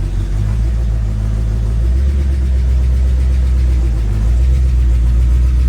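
A 1965 Ford Mustang with a T5 manual gearbox idles with a low steady rumble, then revs slightly as it begins to reverse, continuous and close throughout.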